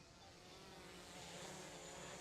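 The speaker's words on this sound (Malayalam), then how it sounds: "ഇപ്പോൾ നമുക്ക് ഡ്രോണിൻ്റെ നോയ്സ് നന്നായിട്ട് കിട്ടുന്നുണ്ടായിരിക്കും" A DJI Air 3S drone flies nearby, its steady broadband propeller whine and hum holding constant and fairly loud for about two seconds, with no speech.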